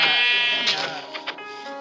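A single drawn-out sheep bleat in Minecraft, close and clear, trailing off into a few faint clicks.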